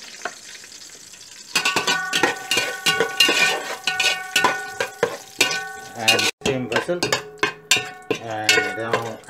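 Cashew nuts and raisins fry in hot oil for a Kerala Thalassery beef biryani, a steady close sizzle with repeated clinks and scrapes of a spoon stirring against the pan.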